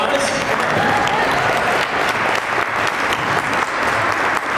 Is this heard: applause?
yes